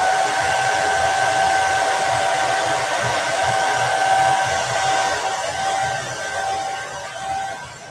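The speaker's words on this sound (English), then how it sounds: "So I'm going to blow dry it." A hair dryer blows steadily over a chalk transfer on a dish towel, a loud continuous whooshing roar with a thin motor whine, easing and fading slightly near the end.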